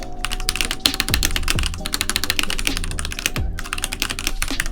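Fast, dense typing on a Keychron C2 full-size mechanical keyboard, close and loud, a continuous clatter of keystrokes with occasional deeper thuds and brief pauses.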